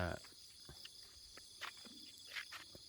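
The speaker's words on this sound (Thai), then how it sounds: "จิ้งหรีด" Faint, steady chirring of crickets outdoors in a foggy rubber plantation, with a few soft scattered rustles and taps.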